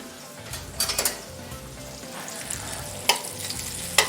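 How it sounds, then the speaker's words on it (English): Blackened shrimp sizzle steadily in butter in a pan for a spicy Alfredo penne dish, with a few sharp clinks and scrapes as they get flipped partway through. "we're gonna flip those shrimp real quick"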